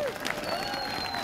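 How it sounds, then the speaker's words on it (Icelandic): Brief applause from an audience at the formal opening of the Norðfjörður tunnel, a soft, dense patter of clapping heard from some distance with faint voices mixed in. "Nú gefum þessu fólki okkur sjálfum gott klapp."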